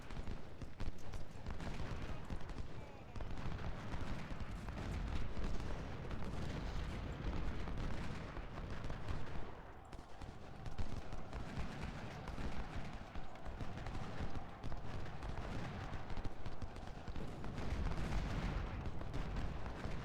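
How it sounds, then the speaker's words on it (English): Massed musket fire from skirmishers trading volleys in a Civil War video game battle at Chantilly, a dense, continuous crackle of overlapping shots with rumbling booms, loud and unbroken throughout, with no voices. "my skirmishers are exchanging fire with these units"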